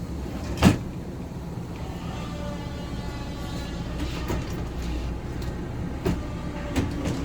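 Drawers in a 2006 Tiffin Allegro Bay motorhome are lifted out of their locks and slid open, producing a sharp knock, a steady low rumble and a few scattered clicks and thumps.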